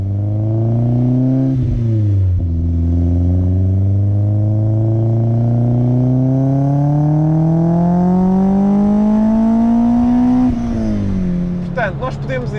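BMW 320is E30 with its S14 engine pulls hard through the revs, a loud close harmonic drone climbing steadily in pitch, with short dips for gear changes near the start and a lift-off near the end.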